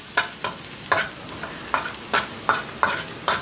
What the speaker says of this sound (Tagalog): we now add 1 thumb size strips of ginger. Okay, and we will cook this until it becomes fragrant.